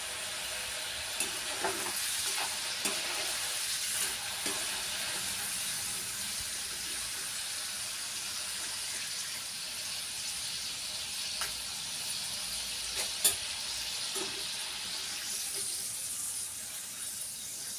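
Jackfruit seeds fry in a pan with a faint, continuous sizzling hiss, broken now and then by soft clicks and brief pops, steady and low throughout.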